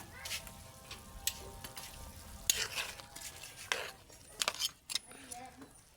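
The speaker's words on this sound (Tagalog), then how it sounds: "Yan, kumukulo na." A pot of Filipino chicken soup (tinola) bubbles and simmers softly, with occasional sharp clinks and scrapes of a utensil against the pot.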